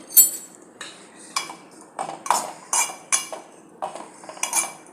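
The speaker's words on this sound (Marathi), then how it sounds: "सुकं खोबरं ही एकसारखं हलवत भाजून घ्यायचं आहे ते जाळायचं नाही आहे" A utensil scrapes and clinks against a pan as dry coconut is stirred while roasting, in quick repeated strokes of close metallic taps and rattles, with no voices.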